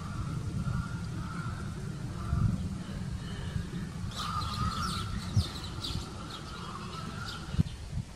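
Birds chirp and call on a windy, overcast afternoon. The calls come in scattered short bursts and are moderately faint over a steady rush of wind.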